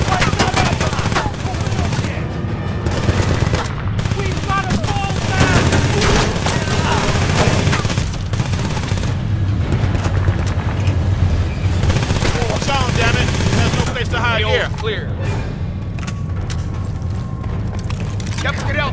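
Heavy gunfire and explosions fill a Battlefield Bad Company 2 battle, with dense bursts of automatic weapons and booms running continuously while voices shout over the fighting.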